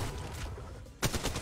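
Gunfire in Apex Legends Mobile: a sudden burst of loud shots after a second of steady in-game background, with the weapon firing on close and loud.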